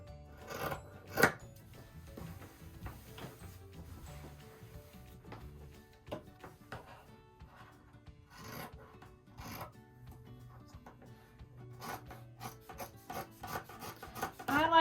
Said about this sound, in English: I sort of angle my scissors a little bit like this